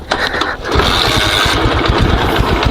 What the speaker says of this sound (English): I hope I'll start this engine up.